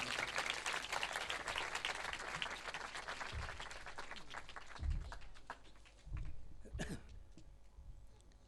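A church congregation claps loudly after a preacher's call to honor the name of Jesus, dense sustained applause that thins out after about five seconds into scattered claps and a few closing bursts.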